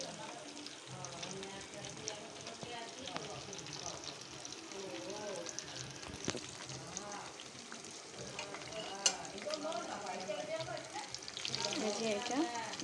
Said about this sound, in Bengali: আর 5 মিনিট সুন্দর করে ভাজবো।